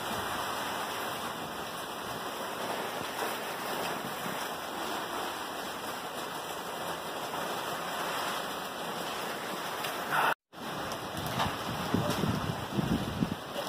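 Strong typhoon wind from Ulysses roars steadily in Angeles City, Pampanga, Philippines, a broad, constant rushing noise with no voices and a brief dropout near the end.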